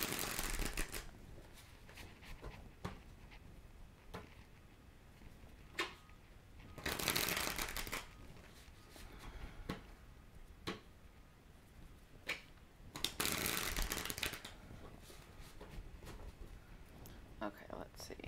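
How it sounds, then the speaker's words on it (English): Tarot cards shuffled by hand during a horoscope reading, soft, close riffling and flicking with a few louder bursts over a quiet room background. "I'm just shuffling your cards right now."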